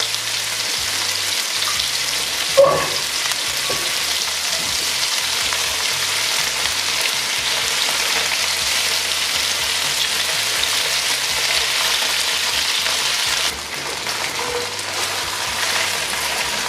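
Lamb pieces browning in a pan for a lamb curry, giving a loud continuous sizzle and hiss throughout, with an occasional faint clink or stir.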